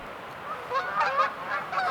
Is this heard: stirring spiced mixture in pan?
no